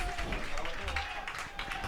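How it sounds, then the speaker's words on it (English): A baseball crowd at a Cotuit Kettleers game claps and cheers during a ninth-inning rally, a soft, steady wash of applause beneath a play-by-play announcer's voice. "a rally mounting for Cotuit as the crowd comes alive here in the 9th"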